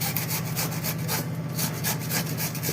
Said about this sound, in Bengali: আর শসাটাকে ঘষে নেবে,